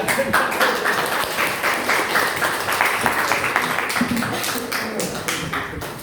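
An audience at a meeting bursts into applause on request, a continuous dense clatter of many hands clapping, loud and even throughout with no talk over it.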